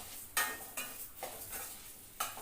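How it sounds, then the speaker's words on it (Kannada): Urad dal frying in hot oil over a medium flame, stirred with a utensil: a steady sizzle broken by several sharp scraping strokes, close and fairly quiet, with no voices. "ಎಣ್ಣೆ ಕಾದ ನಂತರ ನಾವು ಅದಕ್ಕೆ ಉದ್ದಿನ ಬೇಳೆ ಹಾಕಿ ಫ್ರೈ ಮಾಡಿಕೊಳ್ಬೇಕು"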